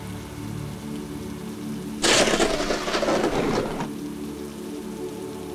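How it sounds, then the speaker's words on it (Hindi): A sudden burst of heavy rain pours down for about two seconds mid-clip, a loud dense hiss of drops that starts abruptly and cuts off just as sharply, with a quiet background before and after. "बहुत बारिश हो रही है"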